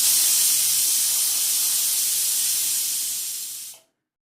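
A pressure cooker holding raw mangoes in water vents steam in a loud, steady hiss that holds for several seconds, then cuts off abruptly into silence.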